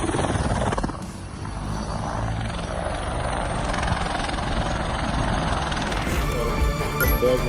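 A helicopter making a troubled landing, its dense, steady rotor and engine roar loud and close throughout with a brief dip and a final surge.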